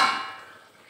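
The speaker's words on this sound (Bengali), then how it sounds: "এবার ঢাকাটাকে খুলব।" A lid comes off a cooking pot of simmering potato curry with a single sharp clank that rings briefly and fades away, close and fairly quiet.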